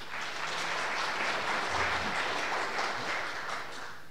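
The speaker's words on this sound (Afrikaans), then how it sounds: "Kom ons gee vir hulle 'n hande klap." Church congregation at an Afrikaans service giving a round of applause, a full, even burst of many hands clapping that swells and fades over a few seconds.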